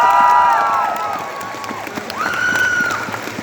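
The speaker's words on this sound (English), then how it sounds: "give a massive round of applause for every single one of our" A large crowd at a comic con cosplay show applauds and cheers continuously, a dense clatter of clapping that stays loud throughout with some higher tonal sounds over it.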